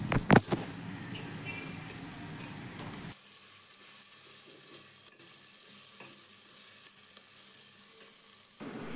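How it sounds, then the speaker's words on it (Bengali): Spices are fried and stirred with onion in oil for egg and potato dum biryani, making a steady soft sizzle with a brief clatter at the start, close and without talk. "ততক্ষণ মশলাগুলোকে তেলের সাথে খুব ভালো করে নেড়ে নিতে হবে।"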